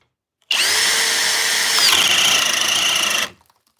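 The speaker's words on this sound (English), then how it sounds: "The Cobalt did that in speed 2, no problem. Maybe it's the wood." Kobalt cordless drill running in speed 2 as it bores into wood, a loud steady whine close up for nearly three seconds, then spinning down and stopping.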